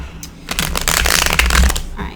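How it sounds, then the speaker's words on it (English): Tarot cards are shuffled close up in one continuous riffling rustle lasting about two seconds. "I think we're good on shuffling with those"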